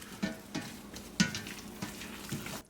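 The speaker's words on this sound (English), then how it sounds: "I'm going to mash them up." Boiled potatoes are mashed in a pot, giving a run of soft, irregular thuds and wet squishing strokes close by, with no talking.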